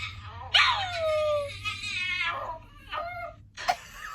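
Pippa, a dog, whimpers and yips up close, a long high whine followed by shorter squeaky yelps, over a low steady hum.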